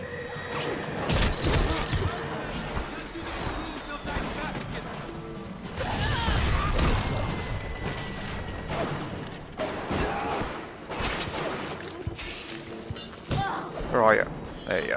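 Heavy wrench melee strikes in BioShock land as loud smashing, clanking impacts scattered through a chaotic fight, mixed with grunts, game noise and someone talking over the action.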